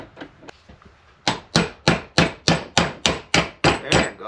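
A hammer drives a part out of a Ford Crown Victoria held in a vise: a few light taps, then about ten loud, sharp metallic blows in a steady, evenly spaced rhythm, close by and with no talking.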